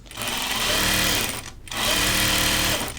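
A sewing machine stitches a belt loop into the side seam of a shirt dress, running in two steady, loud motor-driven bursts split by a brief pause.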